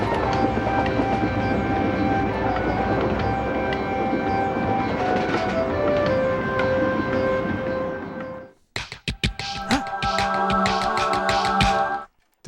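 A cartoon train bears down on a cat-dog man character, a loud continuous rumble with sustained horn-like tones for about eight seconds, then a brief drop before a burst of sharp clattering and tonal hits.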